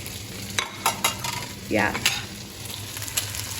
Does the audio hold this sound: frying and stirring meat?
yes